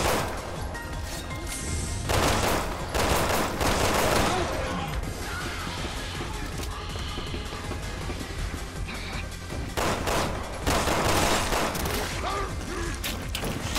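Rapid bursts of gunfire from the video game Resident Evil 6 crackle almost without pause, with sharp impacts and mechanical clatter layered densely throughout.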